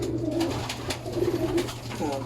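Racing pigeons coo repeatedly at close range in a loft, soft rolling calls overlapping in steady bursts over a low constant hum, with some faint voices in the background.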